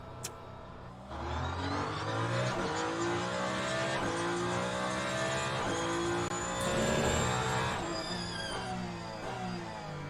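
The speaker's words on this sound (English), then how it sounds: "We're driving the Ferrari hypercar." Ferrari hypercar engine in the Le Mans Ultimate racing game, a loud, steady mid-pitched drone rising and shifting through gears as the car accelerates, continuous for about ten seconds with no talk.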